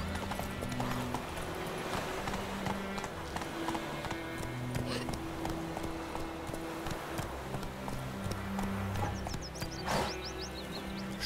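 Horse hooves clip-clop in a steady trotting rhythm in The Witcher 3: Wild Hunt, fairly quiet, with game music tones and occasional brief sounds layered over them.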